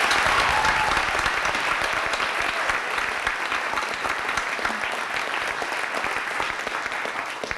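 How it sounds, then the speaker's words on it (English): Sustained applause from an awards-night audience honoring nominees, a dense, even wash of many hands clapping throughout, loud and continuous with no speech over it. "I think we should have a round of applause for all the nominees."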